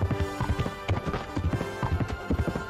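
A close, rhythmic clip-clop of horse hooves in the video game Kingdom Come Deliverance, steady hoofbeats repeating for a few seconds without talk.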